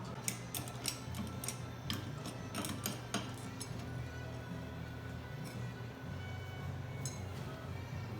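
Small wrench turning knife anchor screws on a Mastercraft 12.5 inch planer during blade replacement, giving faint clustered metallic ticks and clicks early on over a low steady hum, then mostly just the hum.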